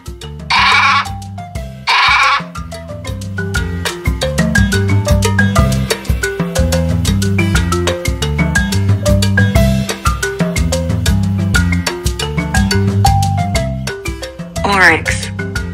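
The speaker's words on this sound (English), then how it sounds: "Sheep." Sheep bleat in a few loud, wavering cries over a steady synthesized musical loop, with another bleat near the end.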